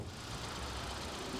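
A four-cylinder car engine running steadily at a low, even idle, faint and continuous, with no voices over it.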